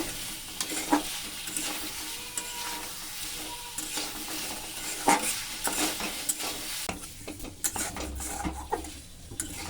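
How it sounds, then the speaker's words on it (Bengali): Boiled potato balls are stirred through spices in a pan, giving a continuous scraping, clattering rhythm of spoon against metal over a soft sizzle, close and fairly quiet. "দু মিনিট ধরে এইভাবে নেড়ে চেড়ে মশলাগুলোকে গায়ে গায়ে মাখো মাখো করে নেব"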